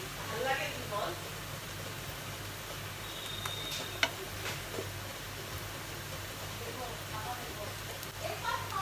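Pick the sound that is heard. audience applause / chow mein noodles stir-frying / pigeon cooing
chow mein noodles stir-frying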